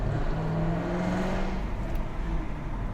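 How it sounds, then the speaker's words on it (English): A Jaguar F-Type R engine in dynamic mode growls loudly from the cabin, a steady, throaty drone with a slight rise in pitch over a few seconds and no voices. "the sound of the engine is all the music you ever need"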